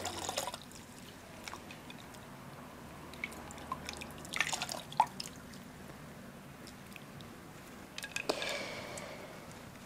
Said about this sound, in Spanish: Estamos viendo un chorrito de agua